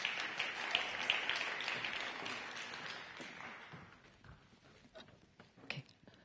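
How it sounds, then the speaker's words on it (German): An audience at a conference lightning-talk session applauds as two presenters come up, clapping fairly faint and distant that thins out into scattered claps and footsteps as it dies away. "Donnernder Applaus"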